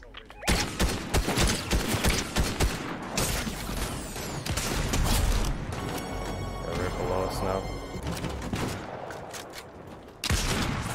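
Gunfire in Fortnite, with rapid bursts of shots, crashes and mechanical clatter over an ongoing battle, fairly loud and dense, while a player talks over it.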